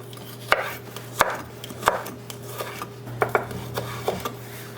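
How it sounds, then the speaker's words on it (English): Vegetables julienned with a knife on a cutting board: sharp, distinct chops landing at an uneven pace, close and fairly loud, with no talking. "Then we want to julienne the rest."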